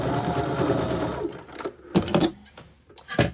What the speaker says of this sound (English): So now we're going to sew straight down here.